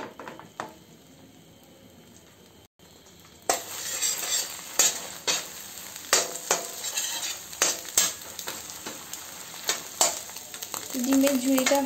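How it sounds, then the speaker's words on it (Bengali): An egg fries in oil with salt, sizzling steadily in a pan, with sharp scrapes and taps from a utensil stirring it. The sound starts quietly and gets louder after a few seconds, with no speech. "ডিমটা ভেজে নিচ্ছি একটু লবণ দিয়ে"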